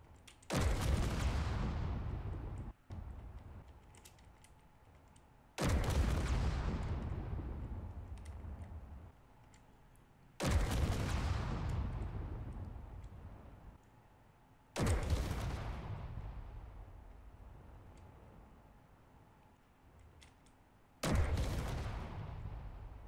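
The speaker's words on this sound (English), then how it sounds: "So it looks like almost all of them explode the same way" Five loud in-game explosions of ship weapon ammo containers in Space Engineers, each a sharp blast followed by a long, fading rumble, evenly spaced a few seconds apart, with no voices.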